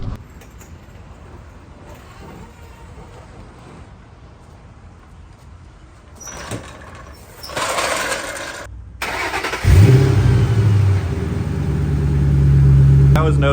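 A Ford Mustang engine cranks and catches around the ten-second mark after a fuel filter change, settling into a loud, steady idle with a low drone that builds toward the end, following quieter background noise.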